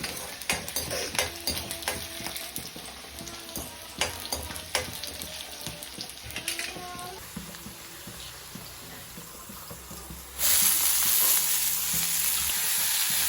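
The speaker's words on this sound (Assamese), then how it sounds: "মায়ে মাছখিনি ফ্ৰাই কৰি আছে" Fish frying in a pan in a home kitchen, sizzling continuously with clinks of a utensil stirring, the frying swelling louder and brighter toward the end.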